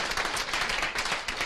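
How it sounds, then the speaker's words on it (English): Audience applause at a community association's annual meeting, a dense, steady patter of many hands clapping that fills the room without a break. "So everyone, one more round of applause for Jerry."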